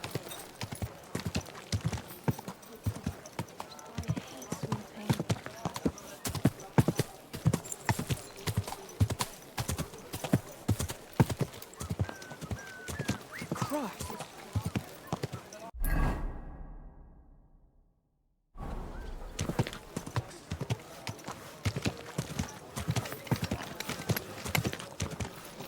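Rapid, steady horse hooves clip-clop for a long stretch in Kingdom Come: Deliverance II, interrupted by a short silence before the galloping rhythm resumes at the same pace.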